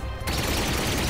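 Rapid gunfire from a weapon in the Ratchet and Clank video game, a dense burst of shots that starts abruptly and fills the rest of the moment at high volume.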